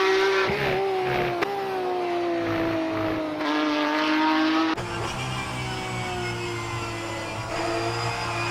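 Porsche 911 GT3 Cup 992 race car on track in a European series race, a loud high engine note climbing and shifting through gears with sharp changes, close and continuous with no talk.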